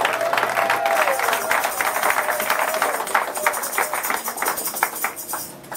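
A church congregation applauds for the king of kings, loud sustained clapping mixed with crowd cheers that fill the whole moment, while a voice rises briefly above the crowd.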